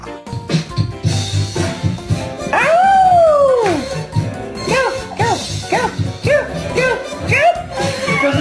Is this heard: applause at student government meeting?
no